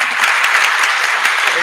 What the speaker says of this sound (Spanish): Muy bien, bueno. Aplausos.